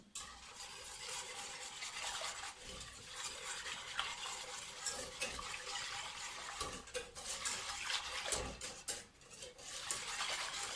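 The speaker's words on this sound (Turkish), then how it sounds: "Bunları güzelce çırpıyorum." Whisk stirring a flour and milk mixture for strawberry cup pudding in a pot, a steady close scraping and swishing with occasional clinks against the metal.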